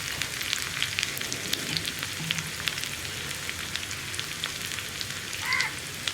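Sliced onions and dried red chillies frying in hot oil in a pan, with a steady close sizzle and scattered crackles and pops, and a brief louder spatter near the end; no one speaks.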